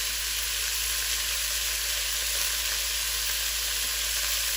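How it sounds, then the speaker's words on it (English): About 1.75 pounds of lamb searing in a hot pot, a steady, loud, hissing sizzle with no let-up and no voices. "we'll get that searing and try to get some nice brown color on the edges"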